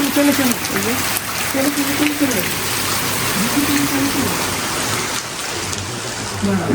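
Continuous rain in Greece hisses throughout while voices murmur in the background, the downpour holding at a steady level.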